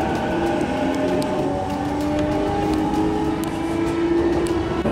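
A passenger train in the Tokyo area, heading toward Yokohama, gives a steady, continuous rumble with a low droning hum, heard from onboard with no talking.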